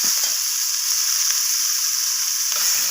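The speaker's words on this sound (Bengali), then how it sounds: "ধনিয়া পাতাটা দিয়ে আমি আবারও নাড়াচাড়া করে কষিয়ে নিচ্ছি" Masala with coriander leaves stir-frying in a pan for a fish and spring onion curry gives a loud, continuous hissing sizzle with a couple of faint stirring knocks, no voices.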